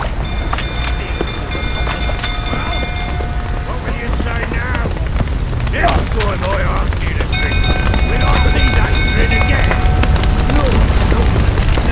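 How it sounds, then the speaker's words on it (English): Steady rain falls in The Witcher 3: Wild Hunt near a burning stable with horses, a continuous broadband wash throughout, with a voice speaking over it partway through. "Looks like rain."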